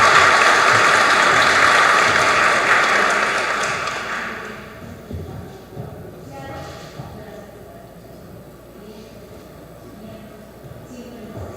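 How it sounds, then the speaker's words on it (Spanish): Audience applause for an invited doctor at a criminal-justice lecture on juvenile penal law, loud and broadband for about four seconds, then fading out into quieter room sounds. "Un fuerte aplauso, por favor, para nuestra invitada"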